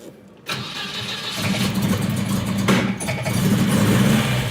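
A carbureted Volvo engine with heavily fuelled carbs cranks briefly, then catches and settles into a loud, steady idle with rough mid-range rumble, close by and alone.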